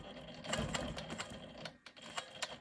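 A Quilt Maker Pro 20 quilting machine runs steadily while stitching a straight line on a rainbow quilt block, a close, rapid mechanical whir with a brief dip in pace near the end.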